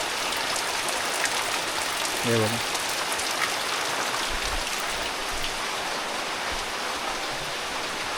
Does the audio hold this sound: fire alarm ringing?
no